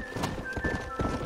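Hooves clip-clop and a horse whinnies in the Red Dead Redemption video game, a short burst of rhythmic hoof steps near a corral at moderate loudness with no talk.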